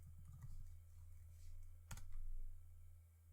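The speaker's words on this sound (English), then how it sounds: "I'm going to click on my name here and type in the password I gave earlier" A computer keyboard tapped to enter a login password, a short run of soft, light keystrokes with one sharper click, quiet over a steady low hum.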